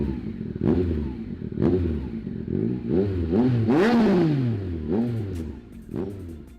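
A Triumph 1050cc triple motorcycle engine fitted with Arrow end cans is revved hard several times in quick succession, each loud blip rising and falling in pitch over a steady idle, close up and with no talking.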